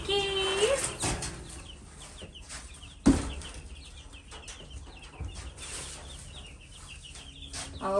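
Chickens cluck and chirp in scattered bursts at a farmyard, fairly faint and irregular, with a person calling to them at times and a sharp knock near the middle.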